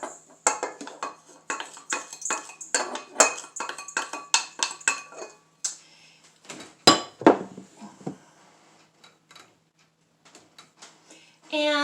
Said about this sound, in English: that we're going to do is cream the sugar and the butter